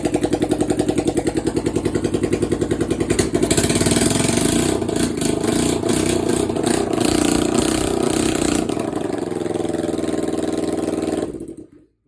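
A motorcycle engine runs loud and close right after being cranked, with a choke pulled, chugging at a rough idle with a brief rise in revs midway before settling and then cutting off abruptly at the end.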